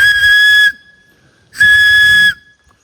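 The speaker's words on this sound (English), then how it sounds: "I'm left with this hollow tube, and this can be used as an emergency whistle." The hollow ferrocerium rod tube from a Panacea X Firefly Fowler mini survival knife blown as an emergency whistle: two loud, shrill, close blasts of under a second each, separated by a short silence.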